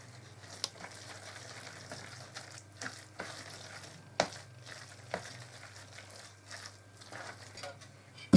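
A spoon stirs a cottage cheese filling in a bowl, giving soft scraping and wet clicks at an irregular pace, with a low steady hum running underneath.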